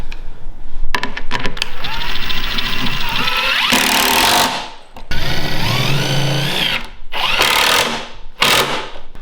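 A power driver sinks screws into a Festool storage cabinet in loud, close bursts of whirring motor whine. Each burst rises in pitch and ends with a brief pause between screws.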